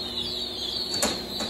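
A pheasant flaps its wings in bursts while being caught in a net, a faint fluttery rustle over a steady background hiss, with one sharper flurry near the end.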